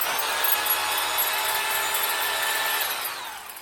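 A hammer drill fitted with a chisel bit, used to chip up floor tile, runs in one steady, loud, continuous buzzing rattle close by, then tapers slightly at the end.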